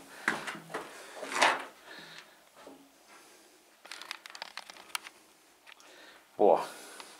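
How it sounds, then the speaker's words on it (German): Scattered knocks, bumps and rattling clatter of a door being jostled, close by, interrupted by quieter pauses and a loud thump at the end. "Zappelt hier mit der Tür rum."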